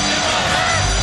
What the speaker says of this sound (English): The applause is for him.